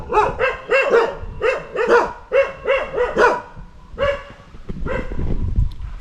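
Several dogs bark in rapid, repeated bursts on a neighborhood road, loud and close, with yips overlapping before the barking thins out toward the end.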